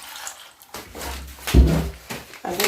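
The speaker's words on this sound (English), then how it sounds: "add water" Water splashes and pours into a small saucepan of green bananas being prepared as traditional Ugandan matooke, a few seconds of close, uneven gushing with a brief louder burst midway.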